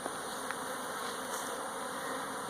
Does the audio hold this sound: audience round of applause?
no